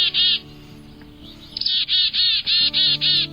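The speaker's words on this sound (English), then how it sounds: "Many birds that associate with flocks of black-capped chickadees are known to respond to their alarm" Black-capped chickadee alarm calls: bright, buzzy chick-a-dee notes, a short burst followed by a run of six rapid rasping dee notes, close and loud, with no other sounds.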